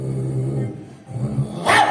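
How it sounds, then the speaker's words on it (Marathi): A big dog barks at a small dog, with a low growling rumble followed by a sharp, loud bark at the end of a brief exchange. "मोठा कुत्रा छोटा कुत्र्याला बघून बोलतोय"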